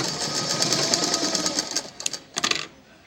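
A sewing machine stitches cloth in a rapid, even run of needle strokes that stops, then gives two short bursts before falling quiet, close and clear.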